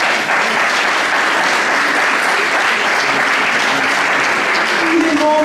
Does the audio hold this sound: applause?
yes